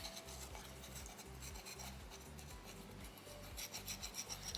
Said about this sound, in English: Using more just the flat edge of the rasp to really kind of refine the bottom of the neckline right now.